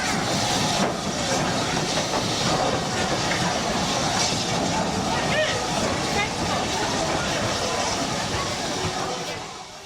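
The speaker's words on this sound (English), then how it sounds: "here we see the locomotive switching ends in readiness for the return journey" A railway locomotive moves at Swanage station while switching ends, a steady rumble with hissing steam and rail clatter, with voices of people nearby mixed in.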